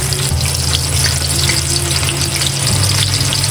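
Tortang dulong, an omelette of tiny ice goby fish, fries steadily in a pan with a loud, continuous sizzle and crackle, a low hum running underneath throughout.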